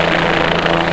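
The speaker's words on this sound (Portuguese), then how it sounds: "um helicóptero da Polícia Rodoviária Federal está dando apoio à equipe que está aqui para fazer essa" A Federal Highway Police helicopter flies overhead during an eviction beside the BR-277 highway, producing a loud, steady rotor thrum and engine roar that fills the whole moment with no voices.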